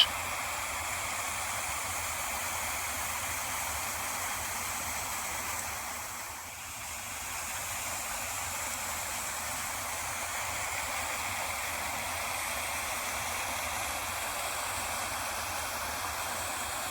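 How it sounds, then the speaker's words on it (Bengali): Mountain waterfall stream rushing over rocks beneath a small concrete bridge, a steady, even wash of water noise, fairly faint and constant, with no voices. "পাহাড় থেকে নেমে এসেছে ঝর্ণা"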